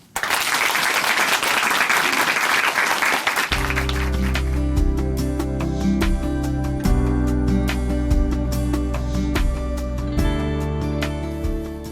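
Studio audience applause greets a church guest on a Christian TV talk show, a dense burst of clapping for about three seconds that gives way to loud music for the rest.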